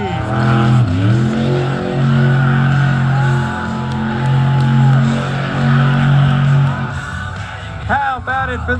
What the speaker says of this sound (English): Going for the big wheelie.